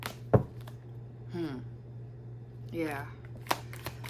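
Tarot cards shuffled by hand, giving a sharp riffle and a couple of brief papery snaps at close range between stretches of a person talking.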